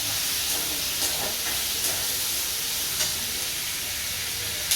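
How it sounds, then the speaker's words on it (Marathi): Potato sabzi sizzles and hisses steadily in a hot pan on a home stove, a continuous close frying crackle with a few faint stirring taps and no talking. "मी आता बटाट्याची भाजी टाकली."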